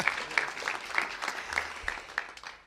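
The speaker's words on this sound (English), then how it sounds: "Somebody wants to applaud Google" An audience at a government press event applauds, a steady wash of many hands clapping at moderate distance, with a few sharper individual claps standing out throughout.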